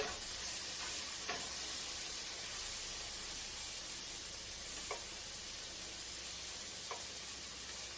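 Chicken stir-fry sizzling steadily in a pan, a dense continuous hiss filling the whole stretch with a few brief clinks from stirring, close and fairly loud with no voices.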